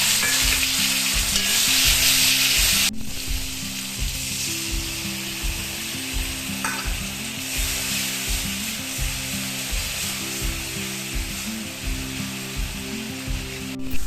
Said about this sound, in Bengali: এখানে আমার মশলাটা ভালোভাবে কষানো হয়ে গেছে